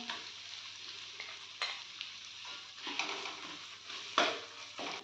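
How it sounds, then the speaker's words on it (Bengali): A steady sizzle rises from a pan as garlic, onion and cumin paste fry in oil for prawn curry. A spoon scrapes and clinks against the pan now and then. The sound is close, low in level and free of speech. "রসুন আর পেঁয়াজটা ভাজা ভাজা হয়ে গেলে আমি এর মধ্যে 1 চামচ জিরে বাটা দিয়ে দেব।"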